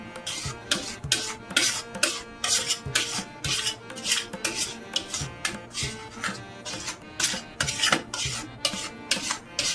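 Thick kesar peda mixture being stirred and scraped in a pan on a low flame, rhythmic rasping strokes repeating steadily about twice a second, close and fairly quiet, with no talking.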